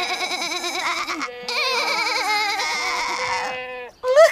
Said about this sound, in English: Look at the baby goat.